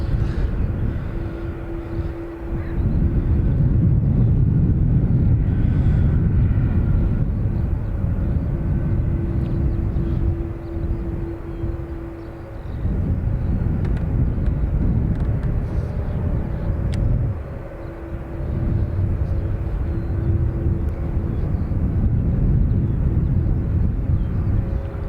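Aircraft taxiing at Dublin Airport, a loud steady engine rumble with a droning tone that swells and eases in long surges, heard from nearby on the airfield.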